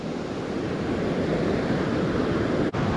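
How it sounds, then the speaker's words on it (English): Sea waves break on the beach of a Bulgarian seaside town in February, a loud, continuous surf wash mixed with wind buffeting the microphone, and no voices. "So many waves."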